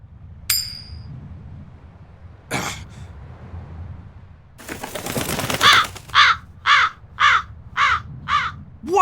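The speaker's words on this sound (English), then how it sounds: "That crow just flew off with the coin!" A crow in the video game Tales of Berseria gives a run of about six harsh, evenly spaced caws, loud and close, after a few earlier scattered sounds and a burst of flapping noise.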